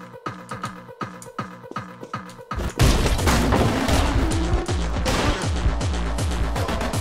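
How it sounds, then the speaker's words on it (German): Game explosions from Anger Foot: rhythmic rumbling thumps give way to a sudden loud blast, followed by a dense stretch of crackling, booming detonations and debris. "Mit deinen scheiß Granaten!"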